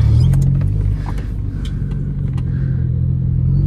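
A Mazda 323 with a dual-cam engine drives off from nearby, a loud, steady low engine drone holding through a gentle pull without any sharp rev spikes.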